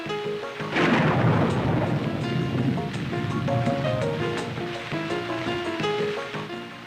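Heavy rain hisses steadily as a deep roll of thunder swells in and rumbles on, loud and continuous, with faint tonal music beneath.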